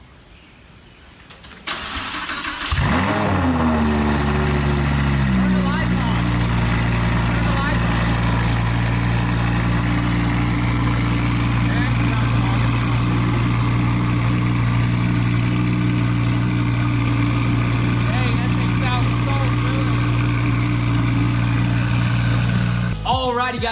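A Lamborghini Huracan engine cranks and fires up from cold, surging briefly before settling into a steady, deep idle that rumbles on until it cuts off.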